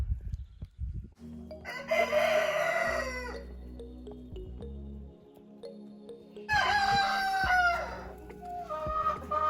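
A rooster crows twice, loud and near, with some soft clucking and low farmyard rumble between the calls.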